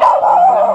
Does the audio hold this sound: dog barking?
yes